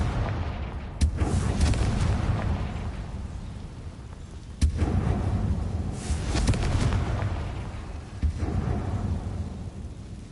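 Confringo blasting spells going off in Hogwarts Legacy, three heavy booming explosions about every few seconds, each rolling out into a long rumbling tail.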